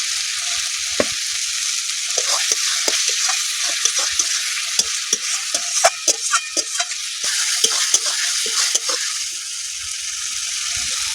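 Spice masala with ground beet fries and is stirred in a pan for a Bengali rohu fish curry, giving a continuous sizzle broken by frequent scraping stirs and clinks, close and loud with no talking.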